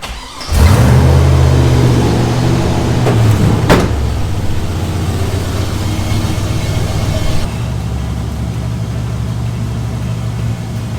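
A car engine turns over and fires up with a brief rev, then settles into a loud, steady idle close by, with a faint knock or click partway through and no talking.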